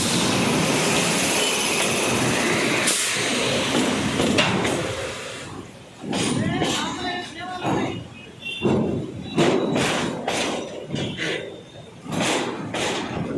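A WAG 9HC electric locomotive hauls a double-decker car-carrier goods train into Vijayawada Junction, making a loud, heavy rumble with rhythmic clattering thumps of wagons over rail joints and occasional squealing wheels, close by for several seconds.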